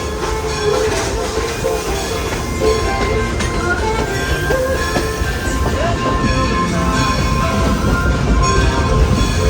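The Dollywood Express train rumbling steadily along the tracks at Dollywood with rattling wheels and squeals, loud and continuous, with faint voices in the background.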